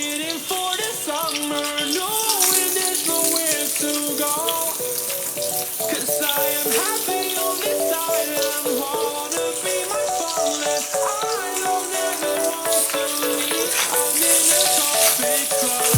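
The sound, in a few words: potatoes frying in hot oil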